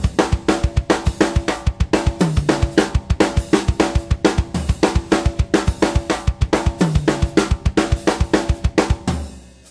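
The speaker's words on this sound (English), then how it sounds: "I will now play the one of the 4/4 measures with my feet on the floor tom and then on the first tom with my left hand" A drum fill moves between the first tom and the floor tom, with steady rapid strokes and bass drum hits repeating through several bars of 4/4, loud and close with cymbal wash above and no talking.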